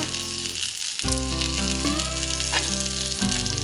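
Bacon sizzles steadily on a Great Gatherings cast iron grill, a loud, dense crackle that carries on without a break, with a brief scrape or shift of the meat partway through.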